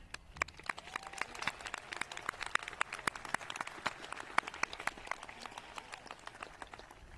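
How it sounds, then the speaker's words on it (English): A crowd at the Montgomery High School Class of 2021 graduation ceremony claps for the faculty and staff. The applause is a steady, even patter of many hands that sounds fairly distant and soft and keeps going for several seconds. "Can we give a round of applause to our faculty and staff?"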